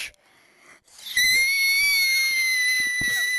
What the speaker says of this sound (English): That was my victory screech.